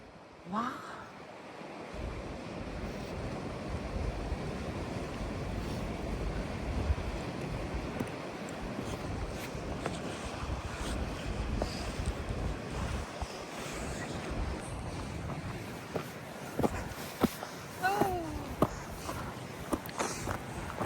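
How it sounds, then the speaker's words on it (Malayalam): Strong wind buffets the microphone on a sea cliff at Kinbane Head, Northern Ireland, roaring steadily for about twenty seconds with surf crashing below and a few footsteps. "നല്ല കാറ്റുണ്ട്"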